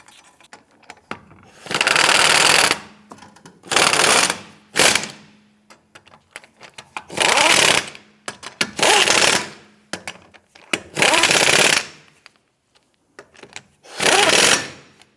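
Lug nuts being run down on a 2008-2013 Nissan Rogue rear wheel with a power impact tool, in about seven loud buzzing, rattling bursts of roughly one second each, separated by short quiet gaps.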